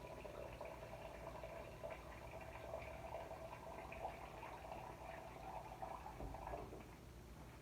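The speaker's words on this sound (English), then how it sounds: "I'm going to add water to it." Water is poured into a pot of pineapple peels and ginger, giving a steady, moderately quiet splashing fill that runs for several seconds before tapering off.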